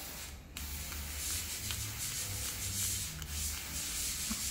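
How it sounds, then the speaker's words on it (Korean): Steady, close rubbing and rasping of stick sandpaper against a custom clay figure, a continuous dry scrubbing that runs without pause and with no talking. "그래도 안 되면 스틱 사포 쓰시면 됩니다."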